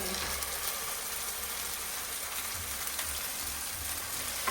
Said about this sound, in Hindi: तो फटाफट से तड़का लगाते हैं। ये देखें साग को तड़का लगाना है।